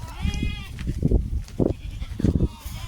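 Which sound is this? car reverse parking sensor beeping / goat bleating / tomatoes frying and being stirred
goat bleating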